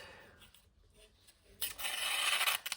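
A ZircuTi Peña Large Raptor knife with a hand-rubbed satin finish slices through material in a brief, bright rasping cut that rises suddenly after a quiet start and runs for about a second, fairly close.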